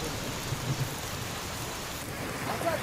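Heavy monsoon rain falling in Sindhudurg, Maharashtra, a steady soft hiss of dense drops on surfaces, even and continuous, moderately distant with no clear voices.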